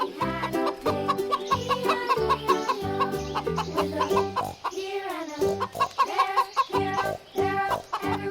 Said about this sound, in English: chickens and roosters